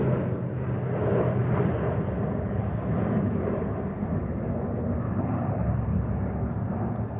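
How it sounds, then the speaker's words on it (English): Four NASA aircraft fly over in tight formation, almost wingtip to wingtip, making a loud, continuous broadband roar that holds steady throughout, with no talking. "There was 4 satellite planes come in, almost touching wings"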